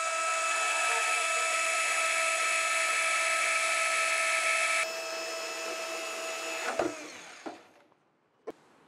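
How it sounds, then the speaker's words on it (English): A bandsaw cuts through steel braces on a Rogers 60-ton hydraulic press, giving a loud, steady high-pitched whine that shifts tone partway through, then winds down into a few metal clanks. "I'm going to get in here with my bandsaw and see if I can just"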